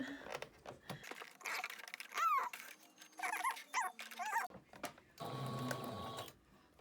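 A home sewing machine stitching fabric for a homemade N95-type mask, bursts of rapid mechanical whirring and clatter separated by pauses, with a dog whimpering faintly in between.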